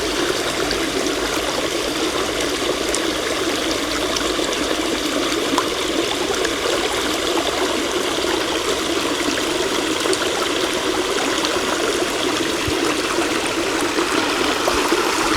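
A flowing stream current at Mukuvisi Woodlands in Harare, Zimbabwe, babbles and trickles in a steady, close wash of water, with no voices over it.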